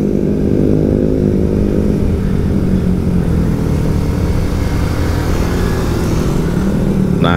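A manual-clutch motorcycle engine roars loudly and steadily while riding an extreme forest trail at Pacet Cangar, its close, throbbing drone holding constant throughout with a slight shift in pitch near the end.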